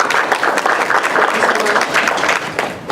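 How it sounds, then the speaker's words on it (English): Loud, sustained applause from a seated audience at a community cancer forum, thanking the panelists with dense, continuous clapping that eases slightly at the end. "Please give them a round of applause."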